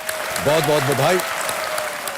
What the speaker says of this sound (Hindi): एक बार फिर तालियों के साथ इनका अभिनंदन